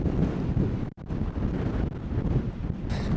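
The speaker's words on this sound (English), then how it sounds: "We are back in the open desert again. A lot of sun and a lot of wind." Strong wind sweeps across open desert on the Continental Divide Trail, buffeting the microphone with loud, rumbling gusts and one brief lull.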